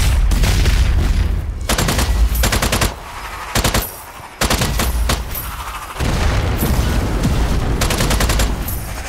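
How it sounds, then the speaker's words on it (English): Rapid gunfire bursts mixed with heavy booms from a grenade explosion in the shooter game Strange Brigade, loud and dense, with brief pauses between volleys. "Grenade away!"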